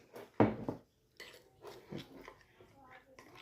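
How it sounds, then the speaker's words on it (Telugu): A spoon stirs cornflour into a little milk in a bowl, with a sharp clink against the dish followed by softer scraping knocks, recorded close and quiet. "ఇందులోని కొంచెం పాలు వేసి ఇది కలపాలి"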